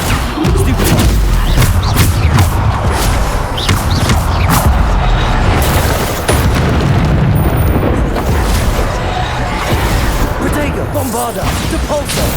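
Bombarda blasting spell explosions in Hogwarts Legacy: loud, booming blasts and bursts that pile up continuously in a chaotic fight, with voices under them.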